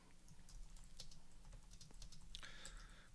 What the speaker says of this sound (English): So we can type whatever text we want in here